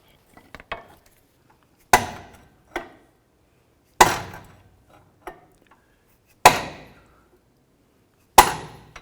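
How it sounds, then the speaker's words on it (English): Hammer blows knocking a control arm bolt through on a 2005-10 Jeep Grand Cherokee, a series of sharp metallic taps of uneven strength spaced a second or two apart, close and alone with no talk. "Might need a few taps from the hammer to push that through."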